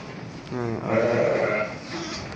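A sheep gives one wavering bleat close by, over a low murmur of background sound.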